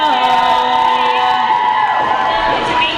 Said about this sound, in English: I'm hooked on that cheer.